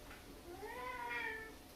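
A single drawn-out cat meow, rising and then falling in pitch, close and fairly clear against a quiet indoor background.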